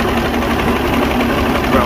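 A Mercury V6 outboard motor idles steadily and loudly up close, a dense mechanical drone with a fast, even pulse throughout. The boat engine is overheating.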